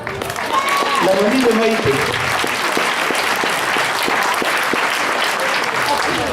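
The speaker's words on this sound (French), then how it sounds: "on va se lever pour qu'on l'applaudisse" A gala evening crowd applauding a grandmother as she stands, loud dense clapping throughout, with a voice speaking briefly over the start.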